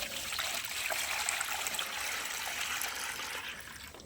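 A cow drinks water from a bucket. Continuous wet slurping and trickling is heard close by and steady, with no talking.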